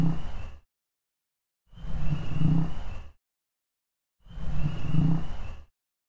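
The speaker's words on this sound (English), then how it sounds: "I'll just go ahead and play the bullfrog 3 times" A bullfrog's deep, resonant call, played back from a recording three times in a row with a short silent gap between each loud burst, and no voices in between.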